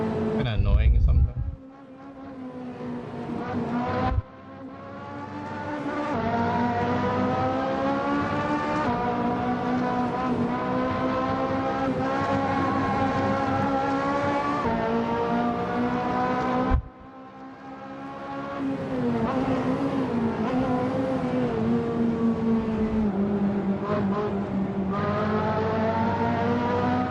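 Race car in Assetto Corsa, a sustained high-revving engine whine with steady harmonic drone, interrupted twice by sharp dips as gears shift before climbing back to a constant loud roar.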